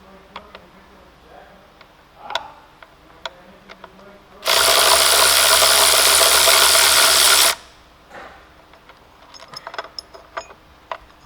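A 13mm socket on a powered ratchet buzzes in one steady three-second burst while removing the battery bracket on a 2016 VW, framed by quieter clicks and handling of tools.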